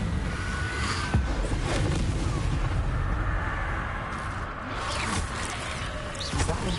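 The Incendio fire spell cast in the video game Hogwarts Legacy, with a burst of fiery whooshes and booms layered over dense, loud combat noise.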